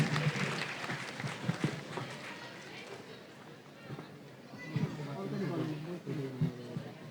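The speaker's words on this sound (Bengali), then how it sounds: "আমরা করতালি দিয়ে স্যারকে স্বাগত জানাই।" An audience at a school graduation ceremony applauds to welcome a speaker, with scattered, fairly faint clapping that swells and fades under crowd chatter and nearby voices.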